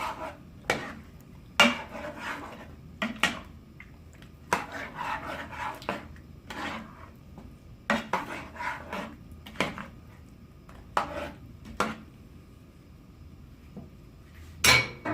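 A metal spoon scraping and knocking inside a pot while mixing chicken korma ingredients with salt, in irregular bursts of scrapes and clinks separated by short quiet gaps, close and fairly crisp.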